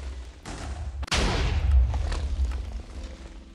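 TNT cannon in Minecraft, water-bucket design, firing at walls: a sharp boom followed by a deep rumbling blast with crackling debris, loud and close, fading over a few seconds.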